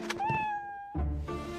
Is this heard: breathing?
no